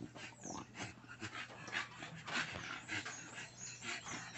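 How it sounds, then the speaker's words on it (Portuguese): Three-and-a-half-month-old micro American Bully puppy at a kennel, whimpering and yipping in short, faint, repeated bursts with light panting between. "olha a cachorrinha aí de 3 meses e meio"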